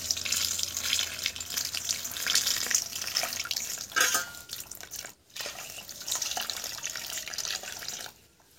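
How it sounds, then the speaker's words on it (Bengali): Cold water is poured steadily into a hot cooking pot while making dough for raw-mango paratha, a continuous rushing splash lasting several seconds with a brief break near the end. "এবার এর মধ্যে আমি ঠান্ডা জল দিচ্ছি"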